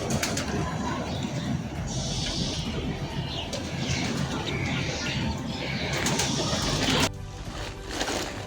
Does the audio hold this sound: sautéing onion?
no